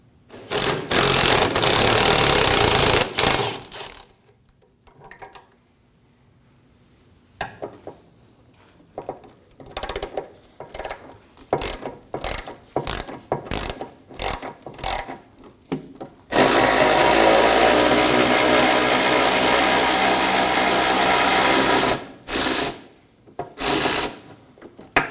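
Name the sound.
ratchet wrench removing 13mm bolts on Ford F-150 side step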